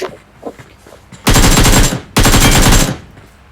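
Two long bursts of rapid automatic gunfire from a video game, loud and close, each lasting under a second with a short gap between, after a few faint quieter sounds.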